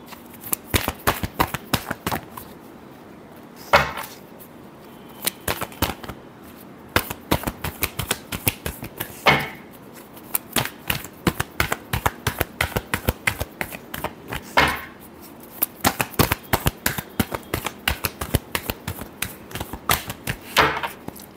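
Tarot cards are shuffled by hand in quick riffling bursts, close and crisp, repeating in uneven clusters with brief pauses between.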